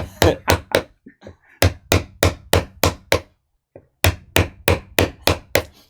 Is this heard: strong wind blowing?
no